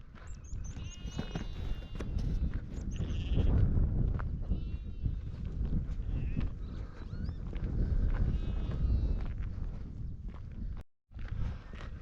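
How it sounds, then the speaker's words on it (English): Sheep and lambs bleat repeatedly from nearby and across a field in Glen Esk, Scotland, several overlapping calls over a rustling, windy background with footsteps. "there's a lot more sheep and lambs up here at this far side"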